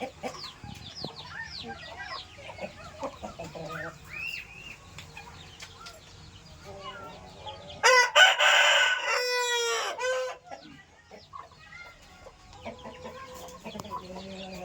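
Roosters crow loudly and repeatedly among hens and chicks at a poultry farm, with a strong burst of crowing near the middle over steady background clucking and calls.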